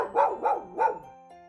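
Three quick, clear dog barks in a steady rhythm, close and alone, presented as an animal sound for children with soft music behind.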